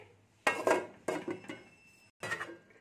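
A lid set down on a cooking pan to cover it, giving several close metallic clatters and clinks in quick succession with short gaps between them.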